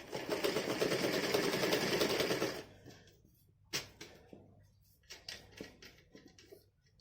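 A sewing machine stitches a baby's dress in a steady, continuous run, then stops and gives way to a few scattered clicks and handling knocks.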